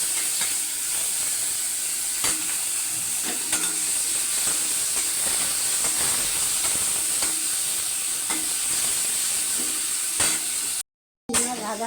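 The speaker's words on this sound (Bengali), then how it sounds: "কড়াইতে তেল দিয়ে দিয়েছি, পাট শাক গিট মেরে নারকোল দিয়ে আর চিংড়ি মাছ দিয়ে রান্না করবো। চিংড়ি মাছ ছেড়ে দেবো।" Prawns fry in hot oil in a wok while being stirred, giving a loud continuous sizzle and hiss broken by sharp spatula scrapes, with a brief dropout near the end.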